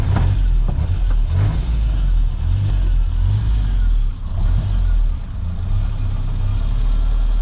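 A 1960s Land Rover Series II engine cranks and catches, then runs with a rough, throbbing low idle and a few blips of the throttle, close up and steady.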